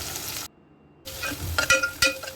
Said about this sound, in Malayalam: നെയ്യൊഴിക്കുക, പിന്നെ കുറച്ച് പട്ടയും ഗ്രാമ്പും ഇട്ട് കൊടുക്കുക, കുറച്ച് സവാള ഇട്ട് കൊടുക്കുക